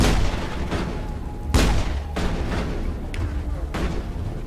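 Repeated gunfire bursts sound in a Mass Effect 1 firefight, several sharp loud shots spaced irregularly over dense combat noise.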